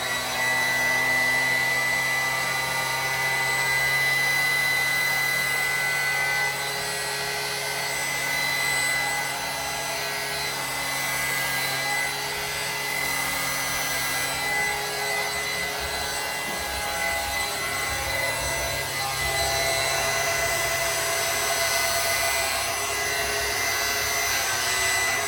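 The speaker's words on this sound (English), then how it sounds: "These vacuum clippers are awesome and you should buy some." Vacuum hair clippers run steadily and close up for the whole stretch, a continuous whirring suction hum with a faint rubbing texture over it and no talking.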